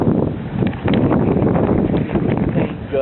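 A strong hurricane gust roars steadily and loudly for several seconds around a truck, with heavy rumbling buffeting across the whole stretch.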